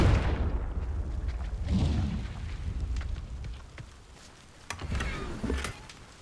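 A Confringo fire spell from the Hogwarts Legacy game lands as a heavy booming blast, then rumbles, followed by a second sharp impact and another burst of rumble.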